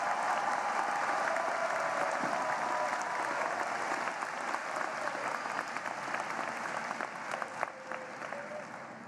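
A large crowd at a university commencement ceremony gives the graduates sustained applause, a thick, even wash of clapping that holds steady throughout with a faint voice or two underneath.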